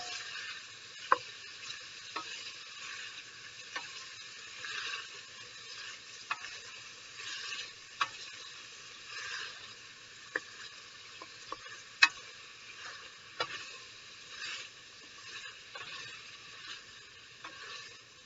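Onions sautéing in a pot as the base for pumpkin soup, a soft steady sizzle with scattered clicks of a utensil stirring against the pot, fairly quiet and close, with no talking.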